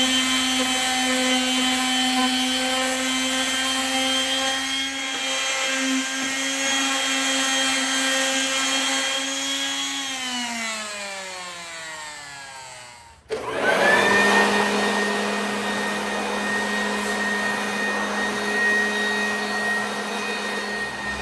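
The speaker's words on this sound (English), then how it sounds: "hit it with the sander one last time" Power sander working over a handmade wooden flag, a loud steady whine with strong harmonics that winds down and stops near the middle, then restarts abruptly and runs on at full speed.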